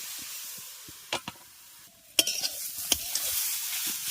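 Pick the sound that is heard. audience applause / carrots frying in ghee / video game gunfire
carrots frying in ghee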